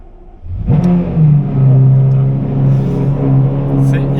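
A Lamborghini Gallardo starts in a garage with a sharp crank and bark, then settles into a loud, close, rumbling high idle that swells and surges with light revving, without talk.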